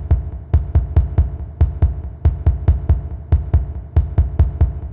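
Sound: Oren's heartbeat beat in Incredibox Sprunki horror mode, video game

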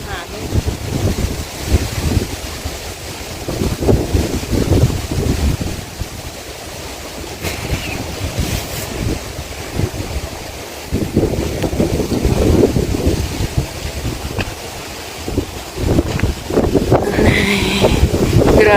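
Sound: strong wind

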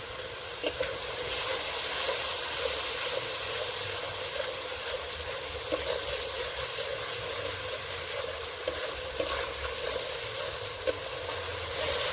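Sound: coriander leaf paste and water sizzling in pan

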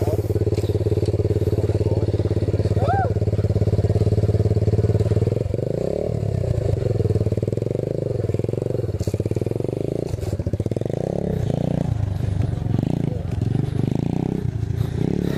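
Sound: Apollo 125cc dirt bike engine riding

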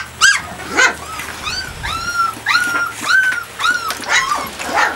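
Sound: puppies growling and whimpering

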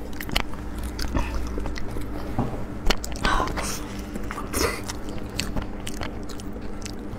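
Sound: person biting and chewing food

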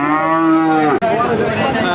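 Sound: cow mooing at a cattle market

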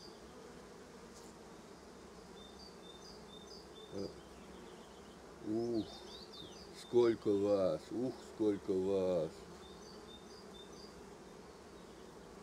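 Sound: honey bees buzzing around a hive frame

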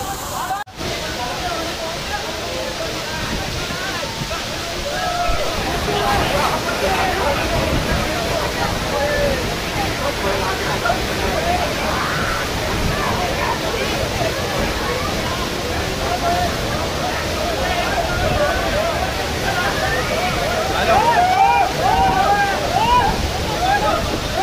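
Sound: Kempty Falls waterfall, rushing water

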